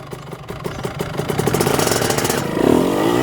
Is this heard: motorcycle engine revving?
yes